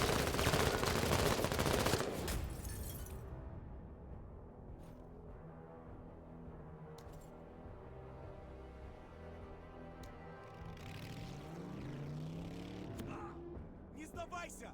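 Video game gunfire rattles in a rapid, loud burst at the start, then gives way to quieter game ambience and distant effects while players talk over it.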